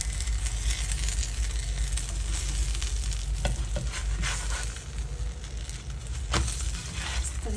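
Sweet corn cheese paratha frying in desi ghee on a hot pan and being flipped, giving a loud, steady sizzle with crackles and brief louder scrapes.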